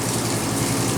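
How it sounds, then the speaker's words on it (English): A hotel shower head running in rain-shower mode in a King/Sofa room bathroom, giving a steady, close, full hiss of falling water that stays even throughout the second with no voices. "There's the rain shower mode."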